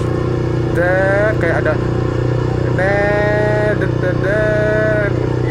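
A Yamaha R15 V3 motorcycle idling loudly and steadily, briefly revved three times in rising whines, while someone talks over the engine.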